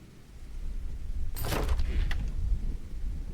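Thunder during lightning in the Roblox game Doors gives a sudden sharp crack followed by a low, rolling rumble against a steady dull background, with no speech.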